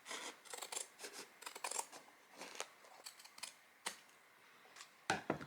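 Scissors snip through fabric to widen the spine of a handmade fabric flower book, with repeated close, crisp cuts in uneven bursts and short pauses, no talking.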